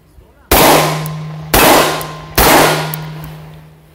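Three sharp, loud shots from a Heckler & Koch P9S 9x19mm pistol about a second apart, each a hard crack followed by a ringing decay.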